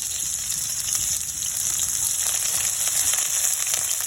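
Onion sizzles in hot oil in a pan alongside ginger and garlic, a steady, close crackling hiss with fine popping that holds throughout, with no talk.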